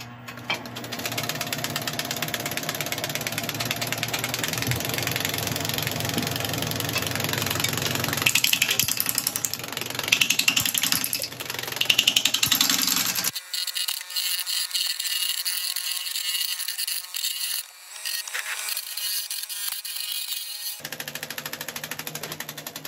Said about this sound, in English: Starting off with the carbide. Won't be turning too quickly at the start.